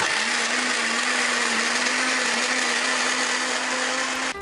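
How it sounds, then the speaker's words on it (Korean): A kitchen blender grinds assorted trimmed vegetables into green juice, a loud, close, steady high whine with a constant motor hum, running unbroken before cutting off abruptly at the end. "냉장고에서 각종 채소를 꺼낸 뒤 손질하고 다시 믹서기에 갈아내는데요."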